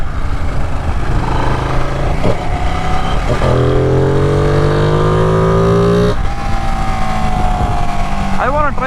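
A red Ducati 959 Panigale motorcycle with stock exhaust roars loud and close on an empty stretch, climbing through gears in rising sweeps with sharp shifts between them.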